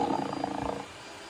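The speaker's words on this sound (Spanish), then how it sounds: "es el sonido que hacen los tigres." A short synthesized tiger roar played back from a Google Assistant smart speaker, a single brief growling rumble that fades out after under a second, heard alone at moderate volume.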